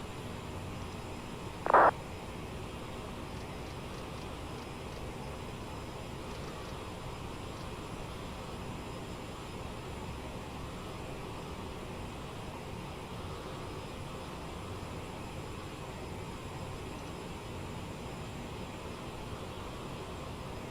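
Steady, even engine drone inside the cockpit of the Aerosoft CRJ regional jet in Microsoft Flight Simulator during climb, a constant muffled roar with one brief click early on.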